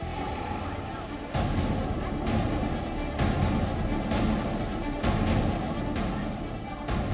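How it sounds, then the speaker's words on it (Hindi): Police gunfire during a raid against drug gangs in Rio de Janeiro, Brazil. Sharp shots crack out one by one at irregular intervals over a steady rumbling background, with someone talking over them. "पुलिस की ये ताबड़तोड़ फायरिंग हो रही है।"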